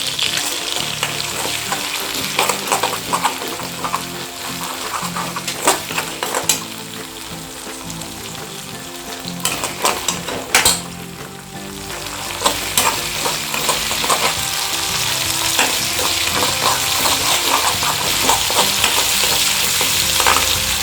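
Chopped garlic fries steadily in hot oil for a homemade prawn pickle, a dense continuous sizzle with scraping stirs throughout, close and fairly loud with no talking.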